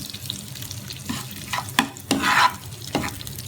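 Onions and carom seeds fry in a hot pan while a spoon stirs and scrapes them. A steady sizzle runs under several sharper scraping strokes, close and moderately loud, with no talking.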